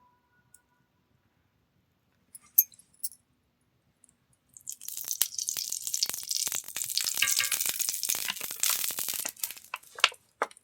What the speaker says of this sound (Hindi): अब तवाई में डालूँ तेल और ओकर बाद डालूँ ये रोटी ला